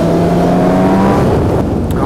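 A 2018 Suzuki GSX-S motorcycle engine runs close and loud with a steady, smooth drone for about two seconds, pitch shifting slightly toward the end.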